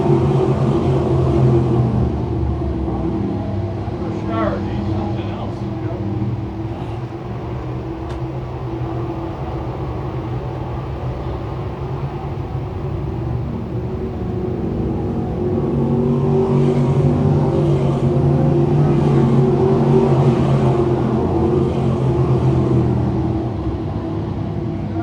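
A pack of 602 crate sprint cars races around a speedway, with engines droning loudly and steadily throughout and rising into a fuller roar of several cars passing near the end.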